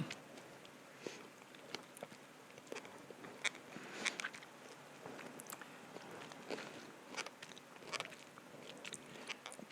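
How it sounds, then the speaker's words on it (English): Someone chews a peach with soft wet biting and crunching, close to the ear, in an uneven run of bites and mouth sounds over a quiet background. "Wow, that's a lot of chewing."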